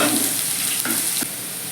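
Onion and crushed garlic fry in a pan with a brief, loud, even sizzle and a couple of soft stirring knocks, without speech.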